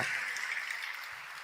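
A church congregation claps during a Telugu sermon, a steady, soft wash of many hands applauding together, somewhat distant and even throughout.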